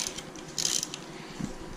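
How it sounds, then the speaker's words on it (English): Wrench on a 15mm nut on a bicycle, producing a brief mechanical ratcheting and creaking with a couple of metallic clicks, close and faint, with no talk. "gotta put the wrenches on. One wrench on the other side"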